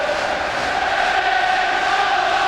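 Roaring, sustained cheer from a stadium crowd of about 50,000 at a 1998 Scottish Premier Division football match after a Celtic goal, a loud continuous wash of voices with no break.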